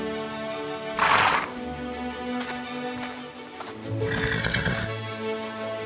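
A cartoon horse whinnies in a fairy-tale story, with a short loud neigh followed by a second, longer whinny over a soft music bed, no talking.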